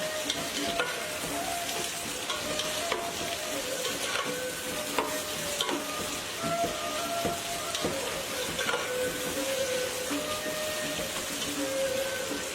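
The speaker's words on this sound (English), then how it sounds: "We're gonna add all the onions, the 2 onions that we have cut into slices. And we will fry the onions until it's brown." Two onions cut into slices fry in hot oil for beef samoosa filling, a steady close sizzle with crackling pops and occasional stirring scrapes.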